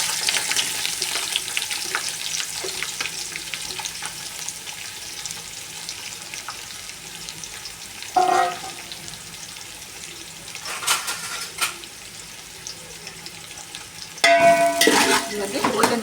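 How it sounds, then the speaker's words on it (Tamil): 400 grams of onions fry in a pan for soya biryani, a steady close sizzle running throughout with occasional louder bursts of stirring and clatter near the middle and end. "இப்போ வந்து 400 கிராம் வெங்காயம் போட்டேன்."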